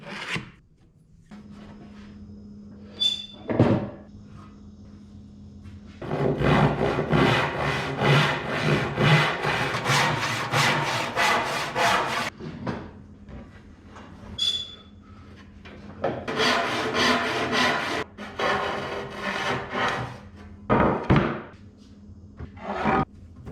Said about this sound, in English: I start by breaking down what I need out of the walnut.